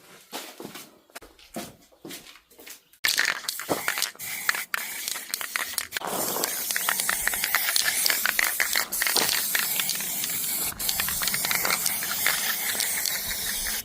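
Continuous hiss of a spray paint can coating a metal panel outdoors, with a few short test bursts first, then a long, steady, fairly loud spray for about ten seconds, with no talking.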